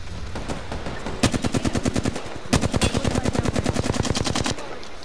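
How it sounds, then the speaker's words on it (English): Rapid automatic gunfire in a squad-based video game shooter, loud close bursts of evenly spaced shots, two long volleys separated by a short gap, with no voices over them. "I'm just shooting just to shoot at him."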